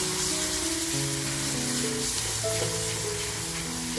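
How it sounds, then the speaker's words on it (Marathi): Chopped tomatoes sizzle in an egg masala pan over lowered flame, a dense, continuous hiss with steady tonal hum in the background and no talk. "जो टॅमॅटो कापून घेतलाय बघा तो टॅमॅटो टाकून घेते"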